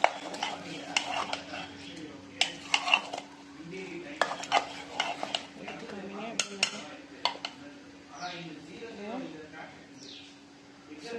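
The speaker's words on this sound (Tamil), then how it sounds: "ஃப்ரெஷ்ஷாக புதினா மல்லி சேர்த்துக்கலாம். சேர்த்துட்டு நல்லா கிளறிக்கலாம்." Vadacurry with fresh mint and coriander being stirred in a pot, giving quiet, irregular scraping and clinking strokes of a utensil against the metal, with a voice in the background.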